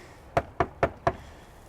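Four sharp knocks on a front door with no key in the lock, evenly spaced and fairly close, with silence after them.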